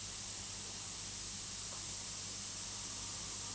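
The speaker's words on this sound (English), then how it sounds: "my old tatty piece of plastic card that I do my test sprays on" Aerosol paint hissing steadily from a spray can onto an old, worn piece of plastic card, a continuous bright spray held for several seconds with no pauses.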